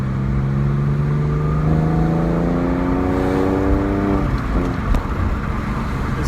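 Porsche engine with a sports exhaust warming up, loud and close: a deep exhaust drone that revs briefly, its pitch sliding upward then falling back toward idle, with a short mechanical clatter near the end.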